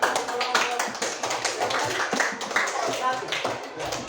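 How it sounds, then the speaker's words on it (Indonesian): Classroom applause for a student group, a steady patter of many hands clapping close by with a voice or two mixed in. "Beri tepuk tangan untuk kelompok"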